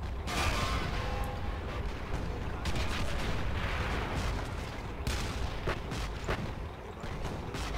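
Anti-air gun firing during a World War II defense of Mlawa in the video game Men of War: Assault Squad 2, dense continuous rattling gunfire with sharp repeated bursts and explosions throughout, loud and unbroken, no talk.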